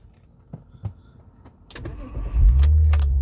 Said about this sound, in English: When I start the car up